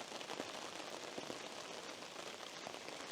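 Steady rain falls at a carp fishing camp, pattering continuously on tents and surfaces nearby with a dense, even hiss and scattered louder drops.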